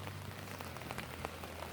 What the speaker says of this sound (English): Of course, the moment I get out here, it starts raining harder again.